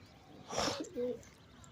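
Madrasi pigeon giving a single short coo, a soft low call close by, after a brief rustle in a quiet setting.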